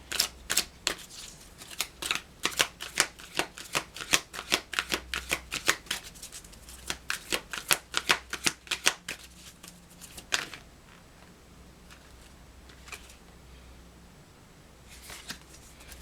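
Rapid riffling of a deck of oracle cards, a dense run of crisp flicks for about ten seconds, then a quiet pause and a final few snaps near the end.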